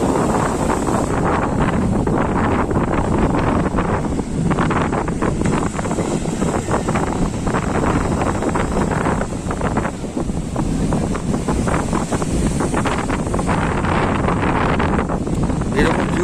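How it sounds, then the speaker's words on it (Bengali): Strong wind roaring into the microphone over crashing, rough sea waves, loud and constant, with a voice talking through it. "সমুদ্র সেই দানবের ঢেউ বা উত্তাল ঢেউ"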